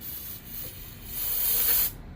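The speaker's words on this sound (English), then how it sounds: "I'll give it a little carb spray" A steady, close hiss of carburetor cleaner sprayed from an aerosol can into the carb port of an old two-stroke Yard Machines snowblower, lasting about two seconds before cutting off.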